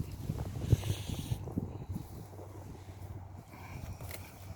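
Several motor boats pass on the water, giving a low, steady engine rumble mixed with wind noise. The rumble sounds somewhat distant and continues throughout, with no talking.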